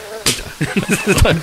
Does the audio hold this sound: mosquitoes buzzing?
yes